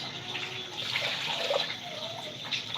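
Four cups of water pour steadily into a pot holding two cups of rice for dinner, a continuous close splashing rush that lasts throughout with slight swells in intensity.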